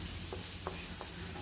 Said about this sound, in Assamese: এনেকৈ ধুনীয়াকৈ ভাজি আছোঁ মই